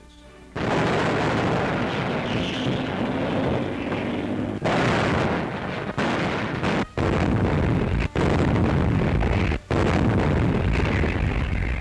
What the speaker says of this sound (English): Heavy and light artillery prepared the way for the advancing armies.